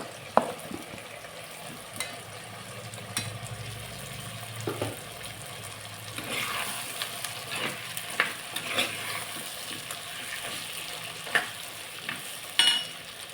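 Potato pieces sizzle in a pan with eggplant, frying steadily under a spoon that stirs and scrapes in scattered knocks, with a brief trickle of water partway through.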